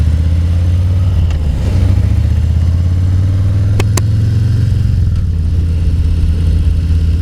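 A 2018 Harley-Davidson Fat Boy 114 runs close and loud, a deep throbbing engine note that rises as it accelerates, with a brief dip around a gear change and a couple of faint clicks.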